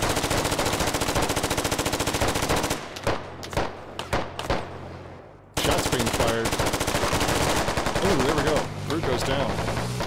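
Gunfire rings out in the military shooter Squad, with rapid sustained automatic bursts close by, a few seconds of separate sharp single shots, and then heavy continuous firing again, while a voice speaks partly under it.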